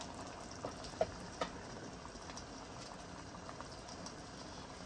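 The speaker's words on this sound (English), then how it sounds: "I'm going to allow everything to boil together." Nigerian egusi soup bubbles in a pot, a faint, steady low simmer with a few soft pops and plops, heard close with no talking.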